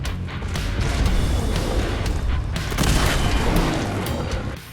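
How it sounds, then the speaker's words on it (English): Missile launcher blasts in the Fallout 4 video game, fired at Deathclaws while wearing power armor: a dense, continuous roar of booming explosions and rumbling debris, loud and sustained without a break. "With the last few remaining, John switched over to a missile launcher to exterminate the remaining Deathclaw."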